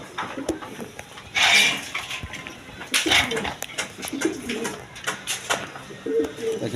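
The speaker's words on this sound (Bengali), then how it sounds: "এখানে একটা ড্যানিশ আছে দেখেন ব্ল্যাক ড্যানিশ কবুতরটা ডিমে চইল আসছে" Black Danish pigeons coo softly in a loft, with scattered wing flutters and light knocks around them, fairly close and fairly quiet.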